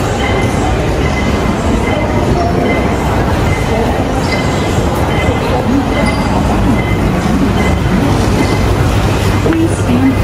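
A Hong Kong airport train runs along the track, a loud continuous rumble with rattling and faint wheel squeals, while voices murmur inside the carriage.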